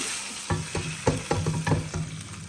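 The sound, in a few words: tadka (spice tempering) sizzling in hot oil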